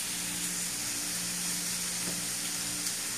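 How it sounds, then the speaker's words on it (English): Seasoned chicken for fajitas sizzles steadily in a hot pan, a soft continuous frying hiss with no voices. "And we put it right in our pan."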